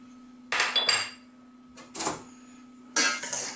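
Rohu fish pieces are tossed with salt, oil and turmeric in a bowl, making three separate bursts of clinking and scraping against quiet pauses.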